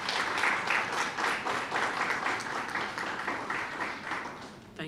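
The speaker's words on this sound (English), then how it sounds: "Please give them a round of applause." Audience applause at a graduation ceremony for a youth skills training programme, steady dense clapping from a large crowd sustained for about five seconds without a break.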